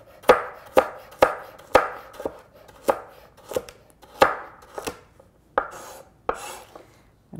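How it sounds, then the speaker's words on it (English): A knife chops a carrot on a cutting board in about eleven crisp, close strikes at a fairly even pace, each a sharp tap against the board, with no voices. "I'm just going to go in the middle, go like that, and cut it into 2 parts"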